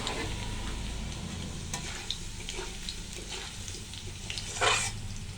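Potatoes frying in ghee with a ground spice paste, a close, even sizzle broken by scraping stirs and one sharper spatter near the end; no voices.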